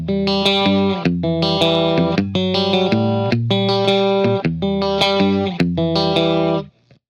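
A cleanish electric guitar tone through a miked amp cabinet plays rhythmic chords in repeated bursts, loud and close, ending in a quick cutoff with no talk.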